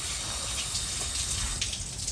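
Water poured through fresh orchid potting mix while repotting a Paphiopedilum Maudiae hybrid, a steady close gushing and trickling wash running on throughout.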